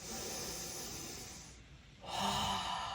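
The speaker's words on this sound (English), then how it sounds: "Last breath, exhale through the mouth" A steady, close breath exhaled through the mouth, a soft airy rush that dips briefly before a second stronger exhale, heard alone without talk.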